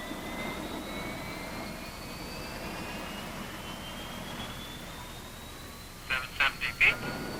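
A US Air Force T-38 Talon jet engine spools up during start, a steady rising turbine whine with faint whistling tones over a constant rumble, ending with a few short clicks or beeps near the close.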